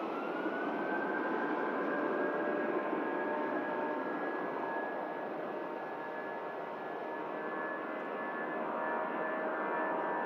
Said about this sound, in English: the Qatar 350 coming in from Doha